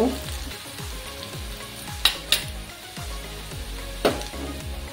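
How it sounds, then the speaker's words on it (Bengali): Onions fry in hot oil in a pan for a Bengali fish curry, a steady close sizzle with a few sharp clinks and scrapes of a spatula stirring. "আরো কিছুক্ষণ এইভাবে ভাজবো আমি পেঁয়াজগুলোকে।"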